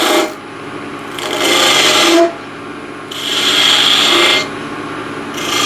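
A 10 mm spindle gouge cuts a spinning wooden spindle on a lathe in two long, loud scraping passes, separated by a brief lull.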